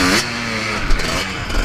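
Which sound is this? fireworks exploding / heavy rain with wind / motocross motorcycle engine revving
motocross motorcycle engine revving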